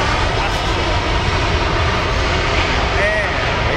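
A jet aircraft lands at Farnborough Airshow, its engine roar loud and sustained as it rolls out with reverse thrust, with a voice talking over it.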